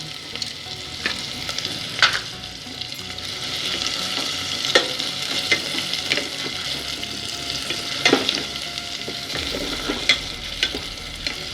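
Onions and curry leaves frying in a pan for carrot sambal give a steady, close sizzle throughout, broken by sharp clinks and scrapes of stirring.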